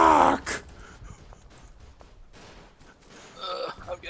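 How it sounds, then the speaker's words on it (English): Gunfire in the World War I shooter Verdun: a loud burst at the start, then scattered distant shots and crackles, with a renewed flurry of fire toward the end. "I'm getting shot at."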